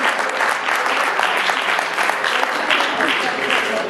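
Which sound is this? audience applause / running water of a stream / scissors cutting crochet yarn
audience applause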